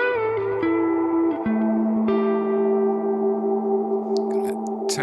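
An electric guitar plays sustained notes through delay effects on a BOSS GT-1000 pedal, each tone ringing and repeating into a lingering echo tail, loud and clear with no talk.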